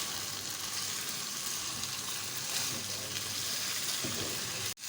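Coarsely chopped medium onions frying in a pan for dahi gosht, a dense close sizzle that runs steadily while they are stirred, ending in a brief clatter, no talking.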